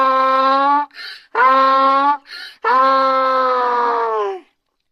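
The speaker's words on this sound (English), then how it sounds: "The donkey says hee-haw!" A donkey brays loudly and close by, its long harmonic hee tones alternating with short breathy haw intakes in a rough, repeated seesaw that ends after about four seconds.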